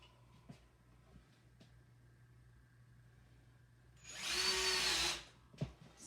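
A power drill whirs in one loud burst of about a second, driving a screw, after a mostly quiet stretch broken only by a few faint knocks.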